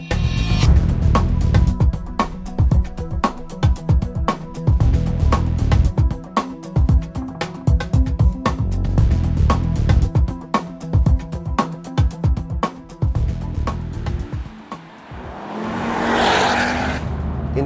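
A Ford Focus RS500 pulls hard at full power, engine snarling loudly up through the revs, with a rapid rhythmic pulsing of exhaust and gear changes, then a brief rushing whoosh near the end.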